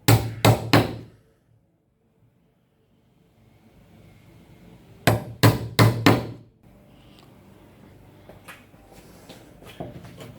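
Two bursts of three or four sharp, close knocks come from a chisel striking timber while it cuts waste out of a pocket in an external stair string. Quieter scraping and tapping follow.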